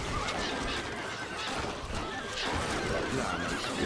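Horses neigh and whinny in the Stronghold Crusader strategy game, loud and close amid a dense, continuous battle din with possible hoof clatter, no talk.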